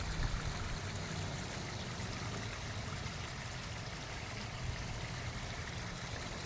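A small homemade water feature in a botanical garden trickles steadily, a soft continuous splash and burble with no pauses. Nobody speaks over it.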